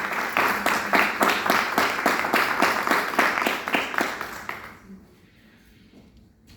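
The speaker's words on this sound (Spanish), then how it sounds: "Denle un aplauso a Cristo." A church congregation applauds together, dense clapping for about five seconds before it fades out into a quiet room.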